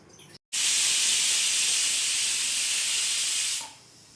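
A loud, steady hiss of steam venting from a pressure cooker whistle while cooking tomato rice, sustained for about three seconds before tapering off.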